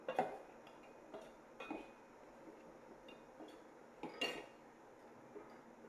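Ash gourd pieces being stirred and mixed in a frying pan with chutney, giving a few scattered clinks and scrapes of a utensil against the pan at irregular intervals, fairly quiet with no talking.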